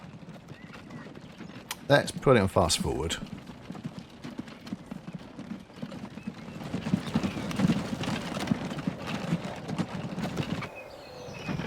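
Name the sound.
horse carts clip-clopping in Transport Fever 2 video game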